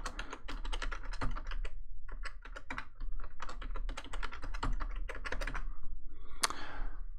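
Keys on a computer keyboard clatter in fast, uneven bursts as a password is typed, close and fairly loud over a steady low hum, with a brief pause midway and a sharper click near the end.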